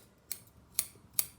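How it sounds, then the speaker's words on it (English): Scissors trimming hair bangs at a vertical angle, three crisp separate snips evenly spaced about half a second apart against quiet background. "you take your scissors, and I cut mine up into"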